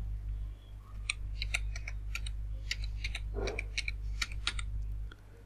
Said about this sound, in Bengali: আমি এখানে জাতীয় পরিচয়পত্র লিখছি।